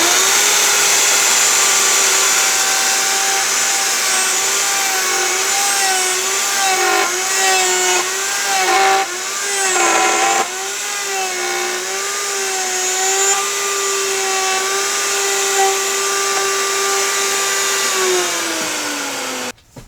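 A power tool cuts a mortise about 1.5 inches deep into Baltic birch plywood with a loud, steady high whine. Its pitch dips and wavers several times as the bit bites into the wood, then winds down at the end.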